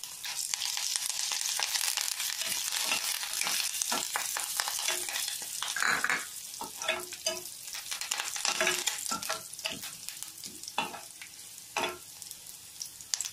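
Onions, green chillies and curry leaves sizzle steadily in a pan, with a dense frying hiss broken by frequent crackles and sharp pops throughout; close and fairly loud, no voices.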